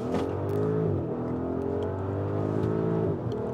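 A 2024 Audi SQ7 twin-turbo petrol V8 revving under load, a loud, close, steady engine drone that rises in pitch, dips briefly at a gear change, then climbs again.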